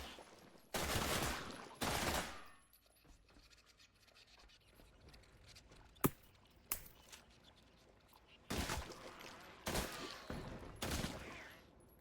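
Gunfire in The Last Caretaker, several loud bursts of automatic fire separated by quieter gaps, plus a couple of single sharp cracks in the middle, close and dominant with little talk.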